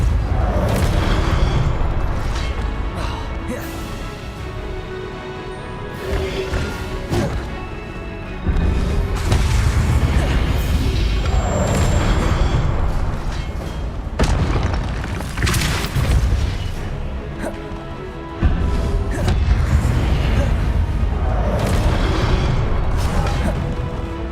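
Confringo and Depulso spell blasts in the Hogwarts Legacy video game, heavy booming explosions and crashing bursts repeating every few seconds over a dense, loud combat din.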